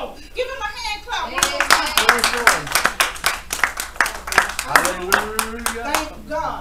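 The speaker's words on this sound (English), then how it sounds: "Give him a hand clap." A church congregation claps their hands for a guest, a loud run of sharp, fairly regular claps that builds in the middle while voices speak and call out over it.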